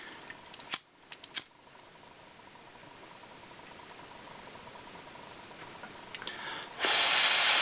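Scissors snip a few quick times while trimming tubing on a fly-tying bench, followed by near silence and a loud hissing burst at the end.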